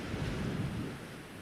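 Ocean waves surge and wash steadily with a low, rumbling roar and some wind noise across the microphone, continuous and fairly close with no speech.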